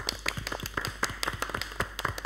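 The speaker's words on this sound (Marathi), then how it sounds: "एकदा जोरदार टाळ्या तुमच्या सगळ्यांसाठी." An audience at a televised Marathi dance competition gives a short round of dense clapping, fairly quiet and heard from a distance.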